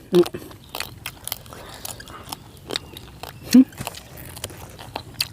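Teeth crunch into crispy-skinned roast suckling pig, a few sharp close bites and chewing noises, with voices faintly in the background.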